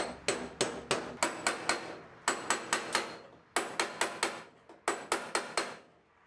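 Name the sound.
hammer tapping car pillar to break spot welds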